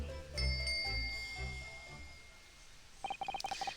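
A bell cord is given a firm tug in The Great Ace Attorney, setting off a rapid run of bright, small bell rings near the end, after a stretch of soft musical background tones.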